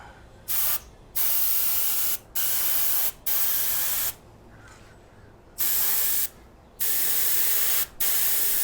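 An airbrush spray gun paints a part in repeated bursts of loud, close hissing spray, each lasting about a second, broken by short quiet gaps, with no talking.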